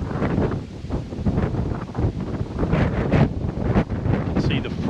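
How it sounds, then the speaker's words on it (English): Gusty storm wind buffeting an outdoor microphone in heavy, rumbling bursts that swell and ease continuously, with a wild front passing overhead and no voices over the roar. "Sorry about the wind noise."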